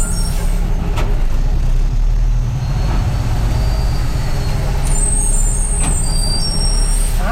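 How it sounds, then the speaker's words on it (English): A big truck on the road hisses with a loud release of its air brakes, the sharp burst sitting over constant rumbling road and engine noise heard from inside a cab. "when a big truck is coming towards you in your lane and you don't slow down"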